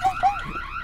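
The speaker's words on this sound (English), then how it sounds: "Oh fuck, that's the alarm." A house alarm in the ghost-robbing game Boo Men sounds in two short rising electronic chirps, fairly loud, followed by a quieter fading tail.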